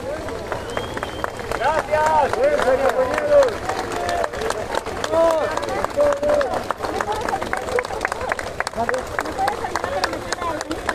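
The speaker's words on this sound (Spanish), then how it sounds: "Este es el aplauso que se dan en conjunto la gente de los servicios de emergencias, los servicios de socorro y salud" Emergency, rescue and health workers applaud together outdoors during a street protest, sustained clapping amid a noisy crowd, with voices, shouting and some cheering over it throughout.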